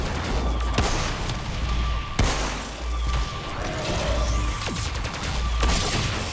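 Gunfire in the video game Warframe, with a weapon's secondary fire: repeated sharp shots and bursts over a dense, noisy in-game background, steady and fairly loud throughout.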